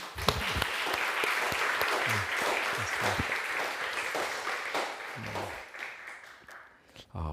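A church congregation at a Wednesday worship service applauds in blessing, a full, dense round of clapping that carries on for several seconds before thinning out, with a voice speaking faintly underneath.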